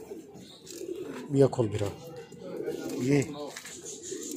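Laal Zard Adwaar Chap pigeons coo softly in a breeding coop, two clear low cooing phrases rising near 1.5 and 3 seconds, with someone speaking close by over them.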